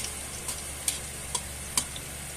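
Garlic sizzling in a hot pan, a steady frying hiss broken by a few sharp clicks from stirring, close and clear with no talking.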